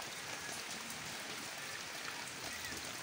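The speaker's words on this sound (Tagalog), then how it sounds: "bumubuhos na ang malakas na ulan" Heavy typhoon rain pouring steadily in Sorsogon City, a dense, constant hiss of rainfall with no breaks and no voices.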